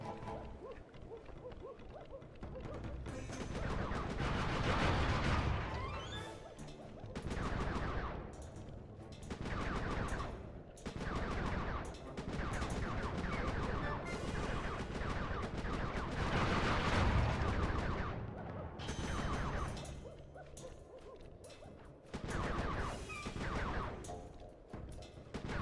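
Shooting in Sly 3: Honor Among Thieves comes in loud rapid bursts of game gunfire separated by short quieter gaps, with music and effects underneath and no talking.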